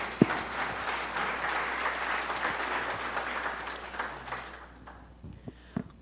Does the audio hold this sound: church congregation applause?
yes